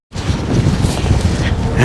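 Strong wind buffets the microphone in loud, continuous rumbling gusts outdoors, with no clear speech.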